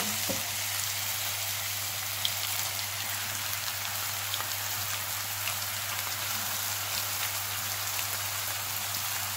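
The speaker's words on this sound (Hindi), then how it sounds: "पाँच मिनट हो गया हमें प्याजों को भूनते हुए" Onions frying in half a cup of hot oil while being browned for stuffed karela, giving off a steady, even sizzling hiss that runs throughout with no talking.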